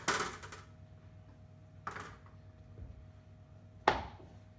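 A large kitchen knife chopping a pumpkin into pieces, three sharp, separate thunks spaced about two seconds apart, close and crisp against a quiet room with a faint steady hum.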